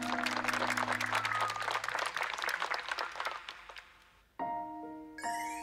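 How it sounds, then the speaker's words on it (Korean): Crowd applause at an outdoor busking concert in Hongcheon, Gangwon, loud and dense for about four seconds, then fading as a sustained musical tone takes over. "큰 박수 부탁드리겠습니다"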